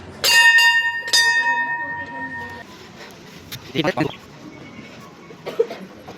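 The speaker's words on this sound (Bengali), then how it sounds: "ঘন্টাটা আগে বাজায়" A temple bell at a Ganesh cave shrine rings twice, bright and resonant, its tone lingering before fading under footsteps and murmured voices.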